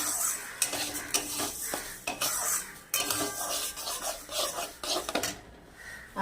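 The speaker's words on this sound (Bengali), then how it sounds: "মুগ ডালটা ঢেলে দিয়েছি এবার একটু ভালো করে একটু হালকা হালকা টাইপের ভাজা হবে" Steady sizzling from a hot pan with a spatula scraping and clinking against metal as mung dal is stirred and lightly fried, no voices.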